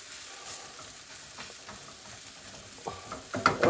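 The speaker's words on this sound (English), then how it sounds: "I'm trying to get all the mixture mixed together" A spoon stirs a filling mixture for Perashki in a pot, making soft scraping and faint sizzling sounds that build into louder clatters near the end, with no talking.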